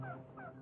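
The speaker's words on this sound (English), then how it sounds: "Only sign of animal life was the geese migrating north for the summer." Geese migrating north for the summer near a beaver swamp give two short, faint honking calls in quick succession.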